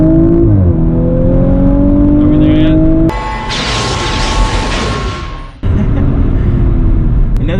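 An Audi RS5 engine drones and rises in pitch, then a harsh rushing roar of acceleration follows before the steady engine note returns, loud and close.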